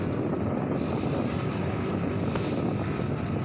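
Strong wind buffets the microphone outdoors at an ondel-ondel Betawi street performance, a steady loud broadband rumble and roar filling the whole stretch with no talking.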